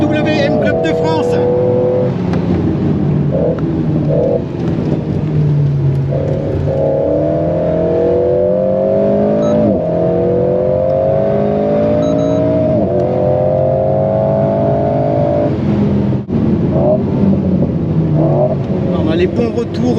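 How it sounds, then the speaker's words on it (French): Alpine A110S sports car driven hard at a track day, its engine revving and shifting up and down through the gears continuously, with exhaust pops and crackles on the overrun, loud and close from on board. "Les bons retours de gaz là dans l'échappement,"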